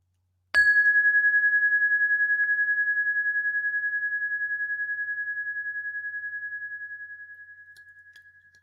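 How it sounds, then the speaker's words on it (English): A meditation chime is struck once and rings out as a pure sustained bell tone, bright and clear, fading slowly over about seven seconds in near silence. "Chime at the beginning, chime at the end."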